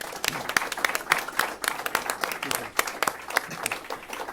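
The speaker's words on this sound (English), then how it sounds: "Please, a round of applause for the Lark Group" An audience at a press conference for the grand opening of the Surrey Technology and Skills Centre claps steadily, a dense patter of many hands lasting several seconds without a break.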